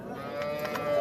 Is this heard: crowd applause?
no